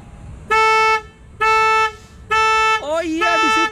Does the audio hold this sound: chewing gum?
no